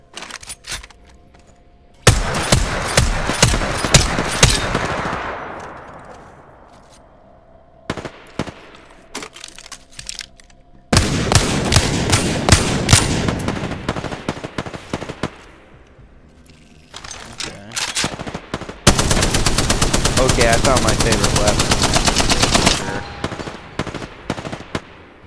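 Spitfire light machine gun in Apex Legends fires long sustained automatic bursts of rapid, loud, evenly spaced shots, with short pauses between the bursts.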